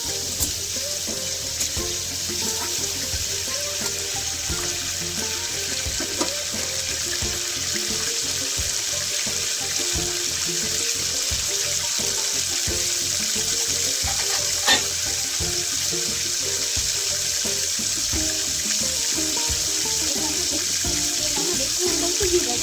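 Paneer frying in hot oil for paneer tikka masala, a steady dense sizzle running throughout, close and fairly loud, with faint kitchen clinks and no talking.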